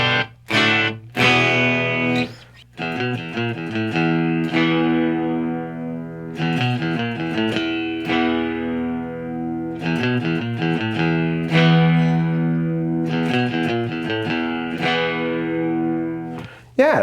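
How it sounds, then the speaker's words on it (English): Bright, twangy Firefly FFTL Telecaster-style electric guitar playing chords and single-note runs in a lively rhythm, clean and close, with a slight effects shimmer and no talking. "that's the setting right there that sounds the most like a Telecaster"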